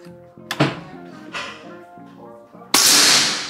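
A PCP Big Game SR Series air rifle is fired in a single shot. It gives a sharp crack about midway, and a louder sharp burst near the end rings out briefly over a steady low musical hum.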